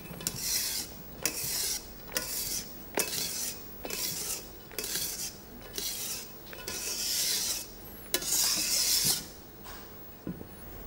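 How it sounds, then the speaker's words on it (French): Flour sifted through a sieve, a rhythmic series of raspy scraping strokes roughly every second, close and steady with no talking. "On va passer la farine à travers un tamis pour éviter qu'il y ait quelques grumeaux"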